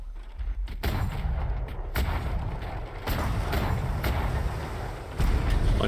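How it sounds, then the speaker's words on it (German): Cannons on a sailing ship fire at a Hydra in a pirate video game, a dense run of heavy booms and blasts rolling one into another at close range with no voice over them. "Und dann können wir auch schon anfangen zu schießen."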